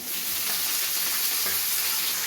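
Capsicum fries in hot oil, a loud, steady, dense sizzle that stays constant throughout with no voices.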